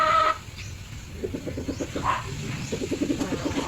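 Month-old Rhode Island x native chicken chicks peep and cheep softly in a steady, overlapping chorus, with one brief louder call near the start, over faint farmyard background.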